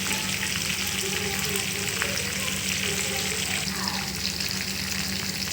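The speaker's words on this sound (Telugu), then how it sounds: "ఇలా చక్కగా మొత్తం చికెన్ మనం ఫ్రై చేసుకున్నాము." Chicken pakodi fries in oil with a dense, even sizzle, close and continuous for the whole moment, with no talk over it.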